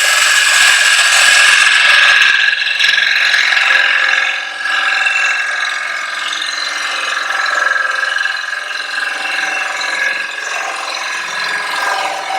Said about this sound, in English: I need to hollow that out. Along here with a spindle gouge